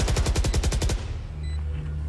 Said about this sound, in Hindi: मेरे को लगा लेफ्ट से गोली चल रही है